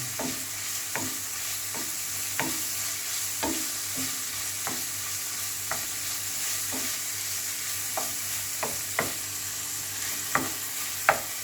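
Chicken fried rice ingredients stir-fried in a pan, a steady close sizzle punctuated by regular sharp spatula strikes and scrapes roughly every second, with no talking.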